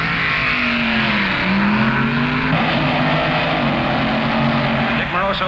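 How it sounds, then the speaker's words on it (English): Drag racing cars launch at the 1966 NHRA Nationals street eliminator, including a Corvette. The engines give a loud, continuous roar that swells with tire noise while an announcer talks over it. "Dick Moroso off the line with a handicap advantage"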